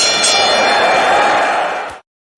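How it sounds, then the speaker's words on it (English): A bell rung to open a segment of a wrestling stats show gives one loud, close clang that rings steadily for about two seconds before being cut off abruptly. "Ring the bell."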